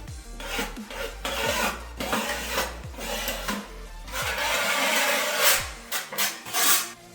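A small spatula presses waterproofing tape into bathroom corners before tiling, giving close, repeated rasping and rubbing strokes in an uneven rhythm.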